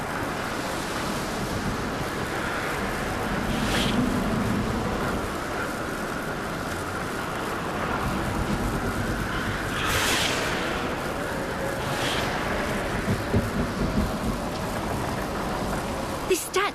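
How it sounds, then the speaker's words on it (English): Storm effects from a VR game: gusting wind and washing water fill the scene, with a few sharp crackling bursts like lightning strikes near the middle and later, steady throughout beneath some speech. "Try not to be in the water when the lightning strikes."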